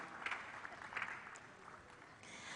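Faint applause from an audience at a church career fair, a short patter of clapping heard from a distance that trails off within about two seconds.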